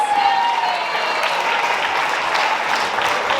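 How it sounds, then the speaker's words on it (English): Wedding guests applaud in a large room, a dense, continuous wash of clapping at close range that holds steady for the whole stretch. "So let's give Steve a big round of applause."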